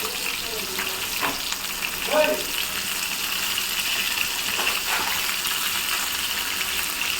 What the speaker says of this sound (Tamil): எனக்கு இப்போ சாம்பார் வச்சு சாதம் வடித்து மீனும் வறுத்துட்டுருக்கேன்